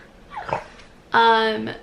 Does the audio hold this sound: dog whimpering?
yes